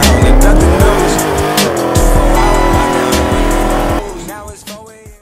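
Dodge Hellcat accelerating hard with tires squealing, a loud close engine roar rising through the gears before easing off near the end.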